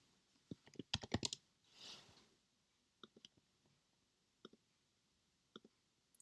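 Quiet typing on a computer keyboard while entering a name: a quick burst of keystrokes, a soft whoosh, then a few scattered isolated key taps.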